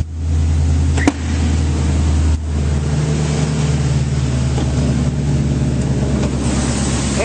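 A 2008 Ford F-250 Super Duty with a gas engine, SuperCab XLT 4WD, idles smoothly, giving a steady, even low drone up close that runs without a break and has no talk over it.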